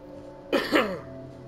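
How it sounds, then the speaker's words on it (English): A short throat-clearing cough of two quick bursts, close and moderately loud, over a low steady background hum. "I didn't mean to cough right as I said that."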